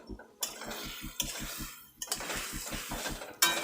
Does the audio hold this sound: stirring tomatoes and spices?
yes